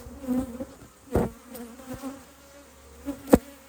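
Honeybees buzz around an open hive during an apiary inspection, a faint steady hum with a few bees passing close by in louder swells, plus occasional clicks and knocks of the frames.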